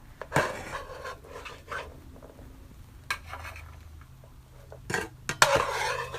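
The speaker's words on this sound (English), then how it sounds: "We're going to go ahead and place this on our plates." Plates and utensils clatter while zucchini nachos and beans are served onto plates, with scattered sharp clinks and scrapes separated by quiet pauses.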